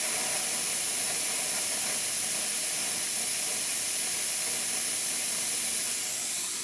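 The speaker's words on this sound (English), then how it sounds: "it has really good steam as well coming out of the machine" Steam hisses loudly and steadily from the steam wand of a La Pavoni Re lever espresso machine, a continuous broadband rush lasting throughout with no talk.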